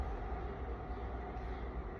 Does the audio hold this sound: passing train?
yes